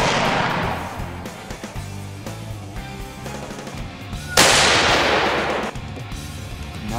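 A rifle fires during a whitetail deer hunt, with one sharp loud crack and its decaying echo near the middle, and an earlier burst at the start, over outdoor background sound.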